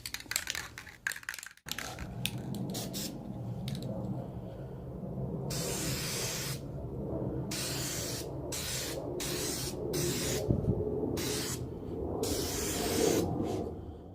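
Krylon satin spray paint hisses from an aerosol can onto a headlight housing in a series of short and longer bursts, close up, separated by brief pauses and faint handling noises.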